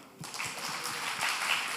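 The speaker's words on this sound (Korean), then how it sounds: "박수 주세요" Applause from an audience at a church testimony meeting breaks out suddenly and holds as a dense, steady patter of many hands, moderately loud and close, with no voices over it.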